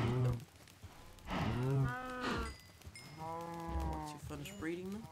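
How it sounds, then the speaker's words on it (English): Cows on an automatic cow farm in a survival video game moo repeatedly, several drawn-out calls overlapping at close range, with someone talking briefly. "There should be a few cows now."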